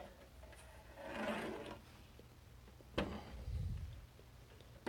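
Someone pulls the back cover off a 1974 RCA XL-100 television. A faint scraping rub comes first, then a sharp knock and a softer, low shuffling. The sounds are quiet and close, with no talking.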